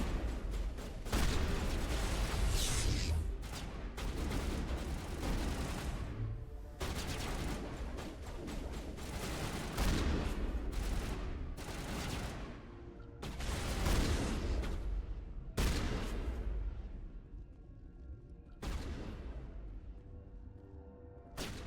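Gunfire in a Mass Effect firefight: continuous bursts of rapid weapon fire with heavy booming impacts, loud and sustained, broken by brief pauses as shooting stops and resumes.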